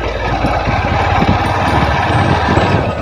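Motorbike engine on a hilltop road in Guwahati, a loud, close, steady throb with a rough, knocking low rumble throughout.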